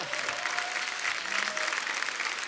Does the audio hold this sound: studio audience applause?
yes